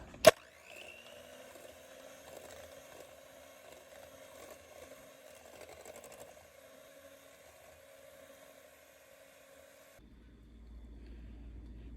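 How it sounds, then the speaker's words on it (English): An electric hand mixer beats eggs and sugar into a custard for tiramisu. It starts with a sharp click, then gives a faint, steady motor whine that holds for about ten seconds before cutting off abruptly. "I'll add a little bit of sugar to this, and I'll beat it with my hand mixer."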